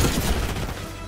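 Heavy burst of gunfire in Call of Duty Black Ops 6, loud overlapping shots and booms in a rapid volley that eases slightly toward the end.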